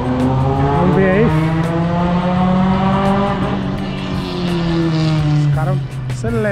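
Several cars revving and accelerating at a Brazilian car meet, a Porsche Carrera 4S among them, with loud rising and falling engine notes and a brief tire squeal, while people talk nearby throughout.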